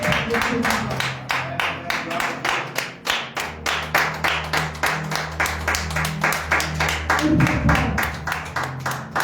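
A church congregation claps in a steady, rhythmic beat throughout, loud and close, with voices singing or calling underneath and a low musical hum.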